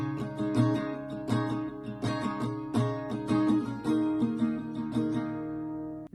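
An acoustic guitar strums the chorus, a down strum followed by quick up strums in a steady repeating pattern, close and alone without voices.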